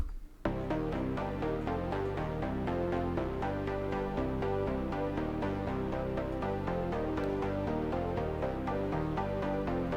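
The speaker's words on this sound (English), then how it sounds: "Stepic will randomize these pitches according to the scale or the notes" A Stepic sequencer drives a synthesizer in a steady stream of shifting, randomized notes over a sustained bass, loud and continuous with no voices.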